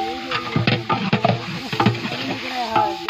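A large pot of chicken curry with spices is stirred at a street food stall, with scraping, knocking strokes and a faint sizzle while someone talks over it.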